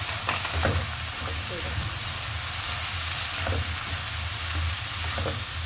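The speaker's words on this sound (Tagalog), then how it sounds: "ilagay natin yung sayote" Chayote fries in a pan with a dense, steady sizzle and occasional stirring scrapes up close, along with a low rumble and brief bits of background talk.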